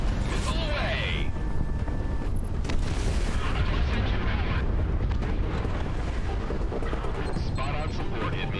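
Missile launch in the Project Wingman combat flight game, a dense, loud rumbling roar and booming blasts filling the whole stretch, with radio voices heard partway through.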